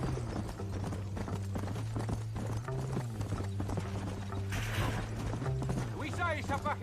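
Horse hooves in the Red Dead Redemption video game clip-clop in a steady, brisk rhythm close up, with light mechanical clicks and a brief whinny-like sound mixed in.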